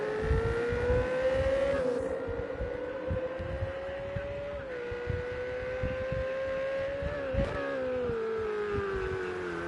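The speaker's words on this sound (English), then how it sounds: "Jason in that beautiful looking Ferrari. Coming around the last corner." Ferrari GT3 race car engine in the racing game Project Cars 2 at Long Beach, a steady high-revving drone with pitch rising and dropping through gear shifts as it comes around the last corner.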